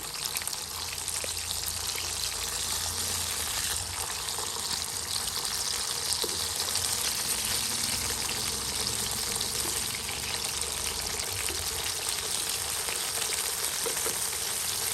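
Steady, dense sizzling and crackling of pangas fish frying in hot oil, close and continuous with no talking.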